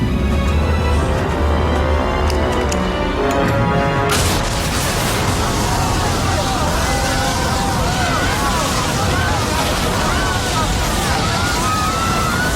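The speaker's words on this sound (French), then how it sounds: "C'est une explosion?" Sudden explosion aboard an airliner cabin in flight: after a quiet hum, an abrupt loud burst gives way to a sustained rushing roar of escaping air and commotion, with voices heard.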